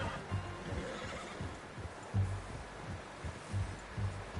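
A horse in the video game Red Dead Redemption 2 whinnies and snorts in short bursts over low, steady background noise, with soft thumping sounds recurring throughout.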